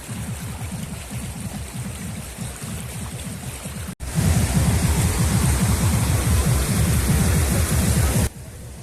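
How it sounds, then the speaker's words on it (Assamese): Dense, steady rush of river water flowing over stones at the Ukiam picnic spot, loud and close, with the roar briefly cutting out and then returning stronger before dropping at the end. "বলক অলপমান আগুৱাই যাওঁ আৰু এই নদীৰ মানে এই পৰিৱেশৰ শব্দ শুনো আমি"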